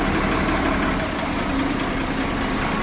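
A tractor engine, just cold-started, runs steadily at a loud, even idle, a continuous low rumble with no pauses.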